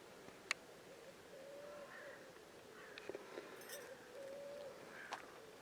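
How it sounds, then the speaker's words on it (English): Wood pigeons coo softly in the countryside around Ewhurst Green, faint repeated calls heard at a distance over a quiet outdoor background with a few small clicks and rustles. "wood pigeons all over the place, crows, rooks."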